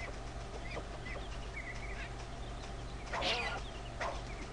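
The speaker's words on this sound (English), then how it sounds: "It's a deer and a chicken." A chicken clucks in Breath of Fire IV, giving a few short, fairly faint calls over a low steady hum, with a louder squawk just past the three-second mark and another shortly after.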